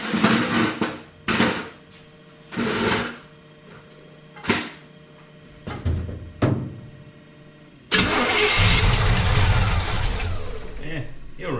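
A car engine cranks after the throttle is pumped, with several short starter bursts and thumps before it fires and runs loudly for the last few seconds.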